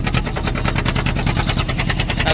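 A boat engine on the crossing to Shiyalbet island, a loud close rapid chugging throb with a steady even beat and no voices.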